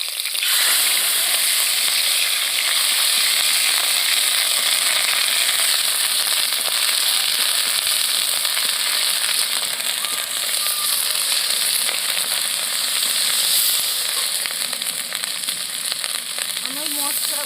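Chopped tomato, green chilli and ginger paste frying in a hot pan, a loud, dense, continuous sizzle and crackle held close and even throughout, with no talking.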